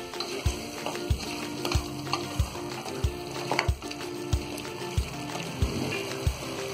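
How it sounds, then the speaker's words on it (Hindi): Tomatoes with turmeric and garam masala powder sizzle in a pan for mutton methi malai while a spoon stirs them, each scrape landing as a regular rhythmic thud over a soft continuous frying hiss. "इन सारी चीजों को अच्छी तरह हम मिक्स कर देंगे।"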